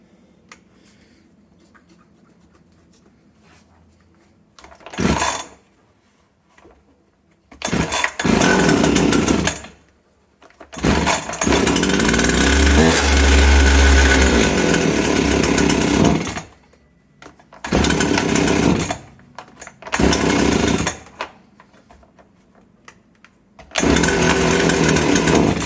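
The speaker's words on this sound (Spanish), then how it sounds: "ya vemos que arranca y se para, no aguanta el gas" A Jonsered BC2145 brush cutter with a fault that keeps it from holding throttle: its two-stroke engine catches, roars briefly and dies again, over and over, in loud bursts separated by quiet gaps.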